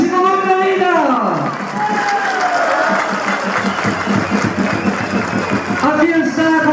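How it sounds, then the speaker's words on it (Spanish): A crowd at a regional government public accountability hearing in Apurímac applauds the arriving governor, loud and continuous, while an amplified announcer's voice and cheers ride on top. "Recibimos con aplausos al gobernador del pueblo, Percy Godoy Medina."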